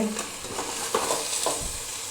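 Chicken frying in a pan with fried onions, tomato and spices, a continuous near sizzle with a couple of soft stirring scrapes and no voices.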